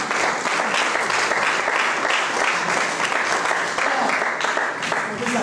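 A church congregation applauds at a service, a dense, steady wash of clapping from many hands that holds at full strength throughout with no pauses.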